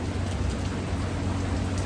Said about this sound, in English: Because it's quite rainy.